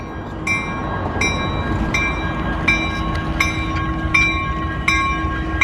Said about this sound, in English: We got the train over here, so we're gonna be right back.